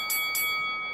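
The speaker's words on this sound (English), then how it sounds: "The bell is going to sound." In the Legends of Boxing PC game, a boxing round bell rings twice in quick succession, two bright clangs followed by a sustained metallic ring that slowly fades.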